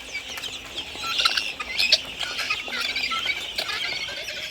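Three-day-old broiler chicks in a farm brooding area, a dense chorus of high, shrill peeping that rises and falls continuously at moderate loudness.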